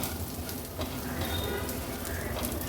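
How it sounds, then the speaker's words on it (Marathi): Sago pearls with salt and sugar sauté over a low-to-medium flame, making a soft continuous sizzle with light stirring scrapes and crackles, fairly quiet and close. "गॅसची फ्लेम लो टू मीडियमवर ठेवून हे साबुदाणे छान आपल्याला परतून घ्यायचे आहेत।"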